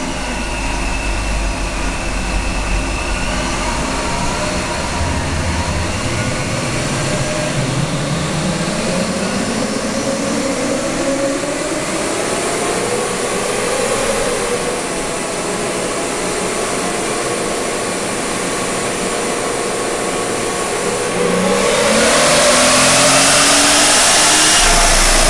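Supercharged 2012 Jeep Wrangler JK with automatic Pentastar engine and 37-inch tires, a loud, close engine roar climbing in pitch through the gears with a rising supercharger whine, swelling louder near the end.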